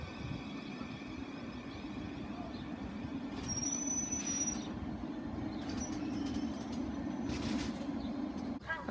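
A Class 700 electric train sits at Rainham station in Kent on a rainy day, giving a steady low hum and rumble with faint high squeals and clunks, distant and unvoiced.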